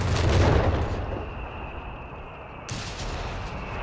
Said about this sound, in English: Mortar barrage coming in.